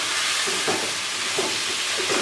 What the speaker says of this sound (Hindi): प्याज और अदरक लहसुन के पेस्ट में मटन को हम तकरीबन 3 से 4 मिनट अच्छे तरीके से भून लेंगे।